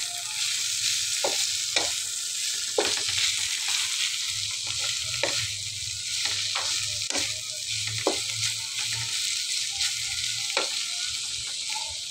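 Sliced bitter gourd (ampalaya) frying in a pan gives a steady, close sizzle, broken by sharp clicks and scrapes as a utensil stirs it at irregular intervals; no voices.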